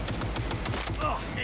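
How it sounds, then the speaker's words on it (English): Rapid gunfire in the video game Cyberpunk 2077, a dense loud burst of repeated shots with thumping impacts packed into a second and a half, mixed with game sound. "Might as well go ahead and use the gun."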